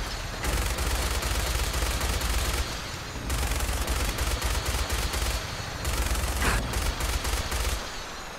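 Rapid bursts of gunfire in the video game Fallout 4, fired from a vehicle's mounted weapons: dense, loud sustained volleys in several long stretches, broken by short pauses and a few sharper separate shots toward the end.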